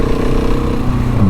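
Husqvarna 701 Enduro motorcycle engine running steadily and loud, a continuous low rumble with a slight pitch rise near the end, no voices.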